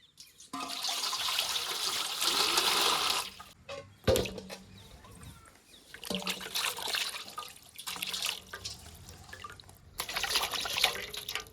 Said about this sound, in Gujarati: દૂધી તોડીને વી આવ્યા છે, તો હાલો આપણે એને ધોઈ નાખીએ।